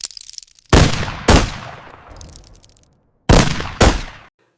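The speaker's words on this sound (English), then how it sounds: "Again and again, the cannons roared." Cannons fire in a siege of Constantinople in 1453, rendered as animation sound effects: four loud booming blasts, two close together, a long rumbling decay, then two more in quick succession, with no voices.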